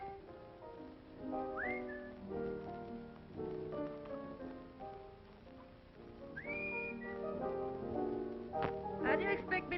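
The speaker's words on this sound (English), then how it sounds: "How do you expect me to whistle through a toothache?" A man whistles a lilting tune in a 1940s film noir scene, a clear melodic whistle with rising slides, close and moderately loud over faint room noise.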